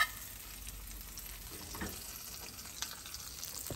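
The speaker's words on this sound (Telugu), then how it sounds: "ఇప్పుడు మైసూర్ బొండా చూపిద్దామని వేసాను" Mysore bonda frying in oil, a steady low sizzle with faint bubbling throughout, close and fairly quiet, without speech.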